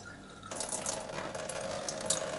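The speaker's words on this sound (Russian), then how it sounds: "Все, начинаем слив. Открываем потихонечку кран." The drain tap of an Easy Brew 40 automatic brewer opens and wheat-beer wort starts running out, a sudden steady rush of liquid that stays even and fairly close once the flow begins, with no voices.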